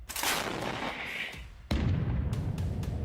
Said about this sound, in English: As it moves closer, the shelling from Russian artillery only intensifies.